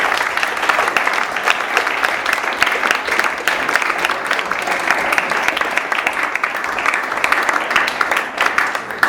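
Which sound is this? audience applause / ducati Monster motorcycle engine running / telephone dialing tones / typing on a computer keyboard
audience applause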